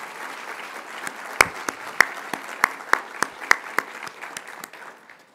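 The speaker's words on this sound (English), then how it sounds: "May you get a round of applause." Light, sparse applause from a conference audience thanking sponsors, a soft background patter punctuated by a handful of sharp, distinct claps before tapering off.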